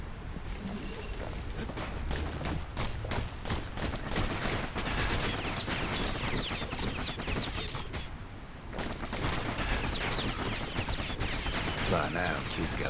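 Rapid dual slinger pistol fire from the action game Bastion, dense repeated shots over a busy game soundtrack with effects, continuous and loud for the whole stretch.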